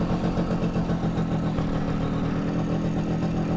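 An MZ TS125 two-stroke motorcycle engine running for the first time in at least 30 years, a loud, steady, close buzzing idle with a fast rattling pulse throughout.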